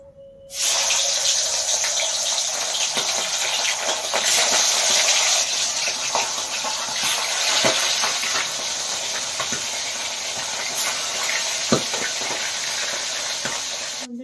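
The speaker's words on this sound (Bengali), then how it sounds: "এবার আমি একটা করে মাছ কড়াইতে দিয়ে দেবো।" Pomfret fish hit smoking-hot oil in a wok, setting off a sudden loud, steady sizzle that holds for over ten seconds with occasional pops and spatters.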